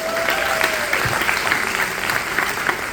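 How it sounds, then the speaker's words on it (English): A crowd applauds warmly for a magician, with dense, even clapping throughout and a brief whistle sliding down near the start. "Let's first give another round of applause for Lowell."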